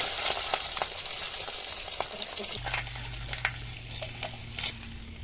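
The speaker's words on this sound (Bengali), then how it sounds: "তেলটা ভালো করে গরম হয়ে গেলে মাছগুলো সুন্দর করে এপিট ওপিট করে ভেজে উঠাবো" Loud, steady sizzling of pabda fish frying in hot oil, with crackles and pops throughout and a low hum joining halfway.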